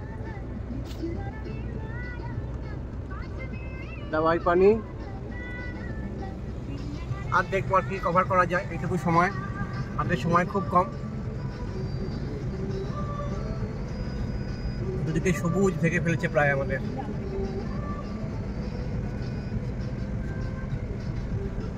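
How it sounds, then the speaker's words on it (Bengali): A Mahindra Xylo climbs a green mountain road toward Takdah and Tinchule in the monsoon, its steady low engine and road rumble running continuously beneath people talking inside the car. "আর এনজিপি থেকে আমাদের ড্রাইভার ভাইয়ের সাথে জাইলো নিয়ে আমরা চলেছি টাকদা টিনচুনে"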